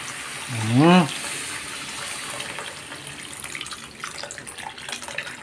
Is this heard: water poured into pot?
yes